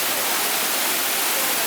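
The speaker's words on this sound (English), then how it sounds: "water is dripping into my cactus holding trays" Heavy Mumbai monsoon rain and wind pour over a balcony garden in a steady, loud, dense hiss, with no distinct drips standing out.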